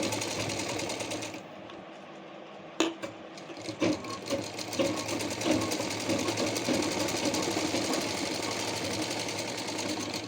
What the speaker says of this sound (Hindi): अगेन स्टिचिंग वाले फैब्रिक को नीचे बेल्ट की साइड में करते हुए यहाँ पर टॉप स्टिच चला देंगे इस तरह से